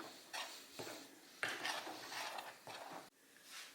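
Flour mixed with baking powder in a bowl for a quick rolled poppy seed cake, with scraping and clinking of a utensil against the bowl and a few soft knocks, close and moderately loud, no talk.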